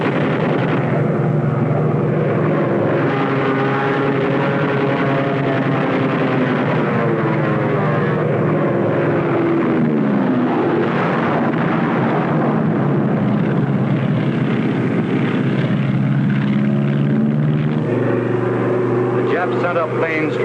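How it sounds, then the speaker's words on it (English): World War II propeller aircraft fly over the Marshall Islands battle of 1944 with a dense, continuous engine roar and drone. The sound stays loud throughout and is overlaid with narration. "Sent up planes trying to drive us off."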